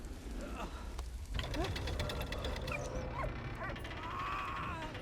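A dog in Valiant Hearts yips, whimpers and barks in short high bursts over game music and background noise, with a person talking through much of it.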